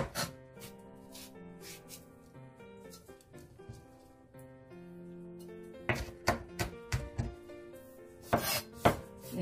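A knife mincing chili peppers for spicy seasoned crab, with sharp irregular chops clustering in the second half over soft background music.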